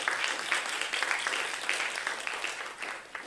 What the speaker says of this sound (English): we'd like to give a round of applause to our MC